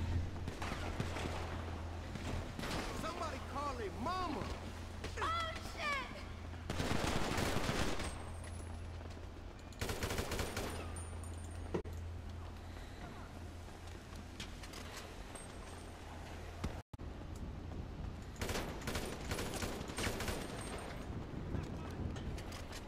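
A shooting video game firefight with scattered bursts of gunfire and automatic weapon volleys over a low steady engine-like hum, intermittent and fairly loud throughout.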